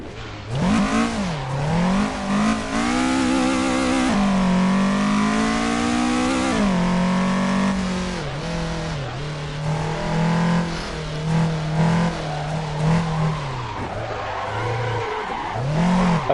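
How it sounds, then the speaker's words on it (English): Formula 1 car in Assetto Corsa at Silverstone, its engine revving loud and continuous throughout, pitch climbing and dropping through gear changes with brief tyre-squeal moments, no talk over it. "I've been able to drive an F1 car around Silverstone"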